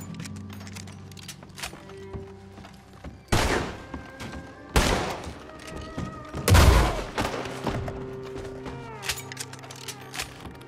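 Gunfire in Red Dead Redemption 2, with several loud, sharp shots and booming blasts spaced irregularly over a busy backdrop of game ambience and faint thuds.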